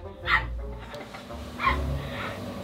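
A golden retriever gives two short barks with whimpering whines, fairly close and loud against a quiet room, with brief human speech in between.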